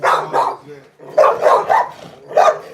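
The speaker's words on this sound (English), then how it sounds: "this where I store some of my most dangerous dogs at" Dogs kept in kennels bark loudly and close by in short clustered bursts, with gaps between volleys and a brief whine in between.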